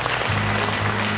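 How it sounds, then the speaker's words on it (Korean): Ceremony audience at a 2017 Korean Confucian leaders' gathering applauding a dignitary's introduction, a loud, dense, continuous burst of many hands clapping through the whole moment, with no speech over it. "박수 부탁드립니다."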